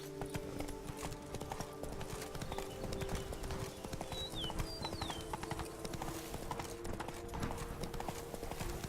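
Horse hooves clip-clop in a steady walking rhythm in The Witcher 3, fairly quiet, with faint ambient game sounds and a couple of brief whistling cries layered over the hoofbeats.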